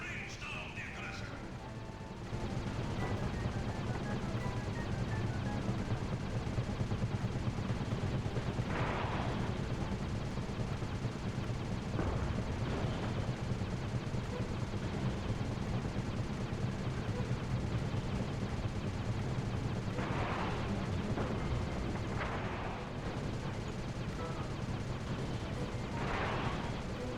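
Gunfire and explosive crashes from the Sly 2 video game, loud bursts of shots and impacts repeating over a dense, continuous rumble of in-game action, with occasional game dialogue.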